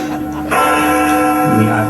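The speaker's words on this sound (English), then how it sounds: "I didn't put those bells in, but they're nice." Bells ring in a loud, sustained chime with a bright, shimmering tone and long overlapping decays that carry through the whole moment, with a voice speaking faintly underneath.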